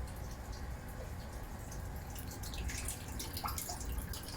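Water overflows from a barrel into a tank during a 450-gallon water change, a steady low trickling and splashing wash with a few faint drips, continuous and fairly quiet.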